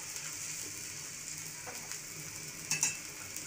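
Green chillies drop into a fish curry simmering in a pan, giving a soft, fairly faint sizzle with a few light stirring scrapes and a brief clink near the end.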